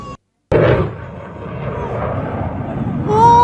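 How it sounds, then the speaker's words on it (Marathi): Tejas fighter jet flying at the Dubai air show before crashing: a sudden loud, broad roar bursts in after a short silence and holds steadily, rising again near the end, with a voice talking faintly underneath. "तेजस हे लढाऊ विमान क्रॅश झाल्याचं उड्डाणाच्या वेळी पाहायला मिळतं"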